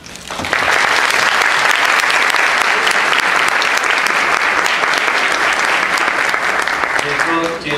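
Audience applause welcoming a councillor at a formal gathering on rare diseases, loud sustained clapping from a large crowd that swells in quickly and holds steady, with a voice speaking faintly near the end.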